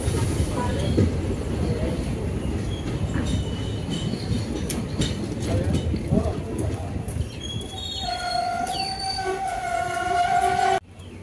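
An Intercity Express train departs Sarupathar railway station, with a steady rolling rumble of wagons, wheel squeal and a sustained horn near the end, and voices faintly in the background.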